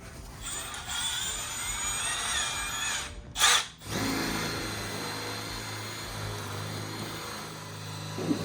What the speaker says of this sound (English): No, this is a drill.